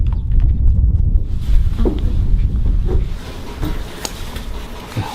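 Racing horses' hooves pounding a horse track circuit, a rapid rhythmic clatter that starts loud and close, then grows somewhat fainter as the gallop carries on.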